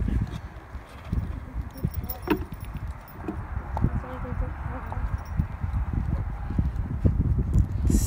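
A horse shuffles and stamps nearby with a few hoof clops and jangling tack, while a person talks quietly over it.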